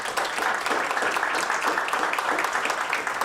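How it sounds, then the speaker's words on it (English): An audience at an awards announcement event gives sustained, dense applause. The clapping holds at an even level throughout, with faint voices underneath. "That deserves a round of applause."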